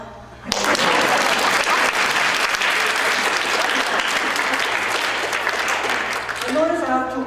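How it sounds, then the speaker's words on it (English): An audience bursts into loud, sustained applause after a storyteller finishes an Asian story at a storytelling show, starting abruptly and holding dense clapping throughout, with a voice rising over it near the end. "Applause for that."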